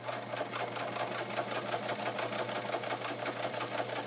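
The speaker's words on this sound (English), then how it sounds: "And I'm sewing at a medium pace," Vintage Kenmore 158.1750 sewing machine stitching leather at a medium pace, a steady, even mechanical whir with a fast rhythmic needle clatter, close up and without talk.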